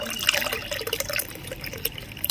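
Karpooravalli tea pours through a tea strainer in a close, continuous liquid trickle with small splashing and dripping sounds throughout.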